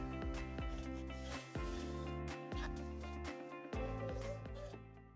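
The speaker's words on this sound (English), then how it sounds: "I slide the station out of the box right side up" A KestrelMet 6000 cellular weather station slides out of its cardboard box, making soft, close rubbing and scraping sounds with a few light knocks over several seconds. No one speaks.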